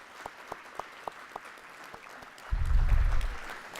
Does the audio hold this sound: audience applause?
yes